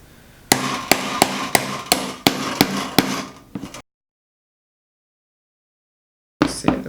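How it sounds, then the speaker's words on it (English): A brass hammer strikes a disc cutter punching through copper sheet, about nine sharp metallic blows in a quick, slightly uneven rhythm, close and loud, followed by silence and then a brief clatter. "I'm going to give it a few whacks and you'll see that the disc cutter goes through the copper sheet."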